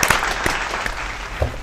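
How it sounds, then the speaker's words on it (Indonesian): Applause from a studio audience welcoming a guest named Agus Muharram onto an Indonesian talk show, close and fairly loud, with a few sharp individual claps standing out. "tepuk tangan dulu"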